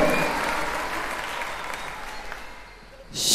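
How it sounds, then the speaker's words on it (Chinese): Audience applause at a live music show: dense, steady clapping from a crowd that thins slightly, then swells again with a sharp burst at the end. "掌声。"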